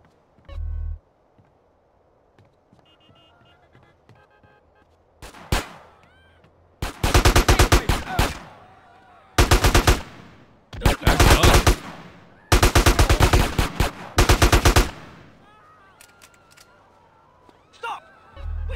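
AK rifle gunfire in the video game GTA San Andreas: loud automatic bursts, several long rattling volleys and a few single shots, separated by quieter gaps of game background sound.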